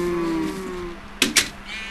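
A Minecraft cow lets out a single drawn-out moo, close and fairly loud, followed by two short thudding hits.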